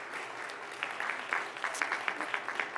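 Brief round of applause at a school board of education meeting, honoring a local council member; steady mid-level clapping from a seated audience with a few louder individual claps standing out.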